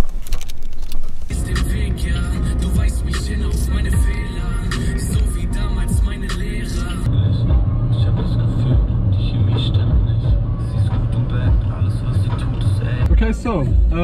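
A car travels along a highway on a long 300 km road trip, its steady engine and road noise droning loudly throughout, with music or other sounds layered over it.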